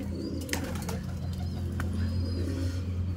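Pigeons kept by a high-flyer pigeon keeper coo softly over a steady low hum, with a few wing flaps and faint rustling close by.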